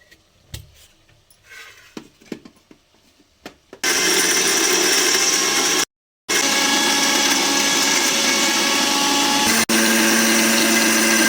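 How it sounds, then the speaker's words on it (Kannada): A kitchen mixer grinder whirs loudly and steadily, blending chicken gravy ingredients with roasted gram dal into a thick paste, starting abruptly after a few quiet handling clicks, with one brief pause mid-run before the motor resumes. "ಗ್ರೇವಿ ಸ್ವಲ್ಪ ಗಟ್ಟಿ ಇರಲಿ ಅಂತೇಳಿ ಪೇಸ್ಟ್ ಮಾಡ್ಕೊಳ್ಳೋಣ"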